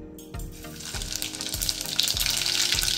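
Cumin and mustard seeds sizzle and crackle in about half a cup of hot oil for a tadka, with a loud, bright, continuous hiss and rapid popping, close up and building steadily.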